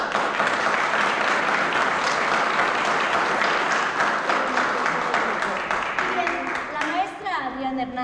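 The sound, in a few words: audience applause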